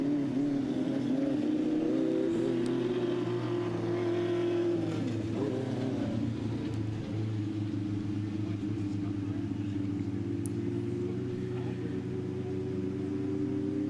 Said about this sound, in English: So we hear some motors firing up, making their way out onto the track.